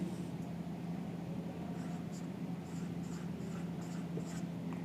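A pen scratches on paper while a worked answer for a class 12 accounts problem on share issues is written out, soft strokes coming in short bursts over a low steady background hum.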